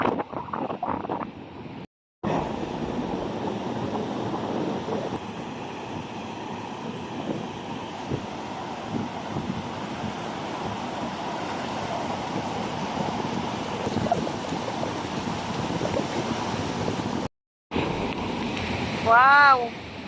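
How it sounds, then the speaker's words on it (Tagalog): Sea waves wash continuously at a sunny beach while strong wind buffets the microphone, with people talking over the steady surf and a couple of brief dropouts. "Hindi naman malaki ang alon."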